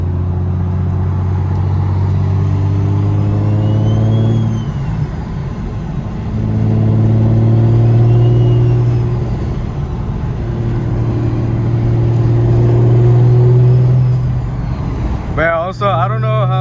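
A car with a Precision turbo crawls through heavy traffic, a loud engine drone rising and falling in long swells as it accelerates and eases off, a short rattling burst near the end.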